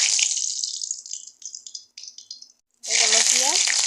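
Two bay leaves dropped into hot oil in a home kitchen, crackling in a bright continuous sizzle that thins into sputtering bursts, pauses briefly, then returns loud and steady as a voice talks over it.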